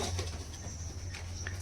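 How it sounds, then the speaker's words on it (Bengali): Soft low cooing from a Kalduma pigeon in a loft, quiet and steady over a constant hum, with a faint higher bird note near the end. "এই যে মাদি পেয়ার পায়রাটা রয়েছে"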